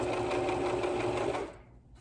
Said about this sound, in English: Then we're going to continue sewing forward